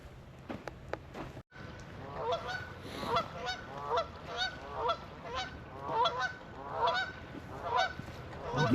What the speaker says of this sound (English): Geese are honking.